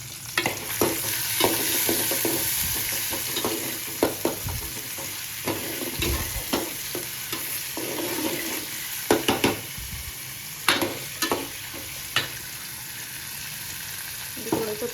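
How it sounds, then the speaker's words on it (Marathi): Onions cook in a pan for Agri Koli style pakhat, a constant frying hiss running throughout with frequent irregular ladle scrapes and taps against the pan. "थोडंसं 5 मिनिट कांदा शिजवून देईल मी"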